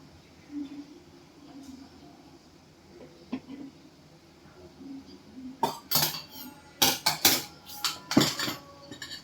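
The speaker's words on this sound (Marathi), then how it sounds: "ते पण आपण ह्याच्यामध्ये कालवणार आहोत." Hot oil being mixed into spinach fritter batter in a bowl: after a quiet start, a burst of metallic clinks and scraping of a spoon against the bowl, loud and close.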